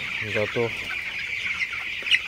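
Broiler chickens in a poultry shed give a couple of short, close clucks near the start, followed by quieter background clucking over a steady hiss.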